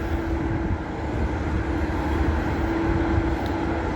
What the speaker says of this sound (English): Let's get on our Bendigo train now, I think.